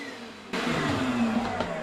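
Vacuum cleaner switching on abruptly and running steadily close by, cleaning up around a guinea pig cage, with a rising motor whine.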